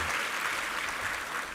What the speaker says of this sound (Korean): 우리 세 분 목회자를 위해서 한번 격려 박수 한번 부탁합니다